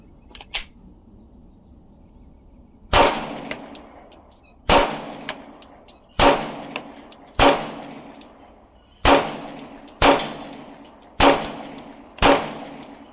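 Glock 19X pistol shots with a failure-to-feed problem, seven sharp cracks at a steady pace of about one every one and a half seconds after an earlier faint pop, each followed by a brief echoing tail, with no talking.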